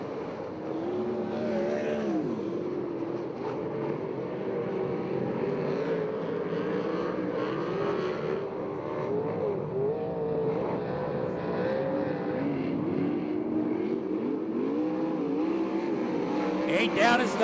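Sprint cars in a USAC/CRA race at Hanford, California roar steadily down the back straightaway, a continuous loud engine drone, with a race commentator talking over it.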